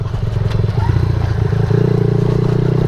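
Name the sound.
Suzuki DRZ 70 small motorcycle riding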